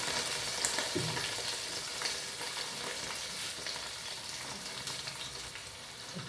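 Sliced onions with a pinch of salt frying in a pan for a squid roast: a soft, steady hiss and crackle, fairly quiet, broken by a few faint stirring scrapes.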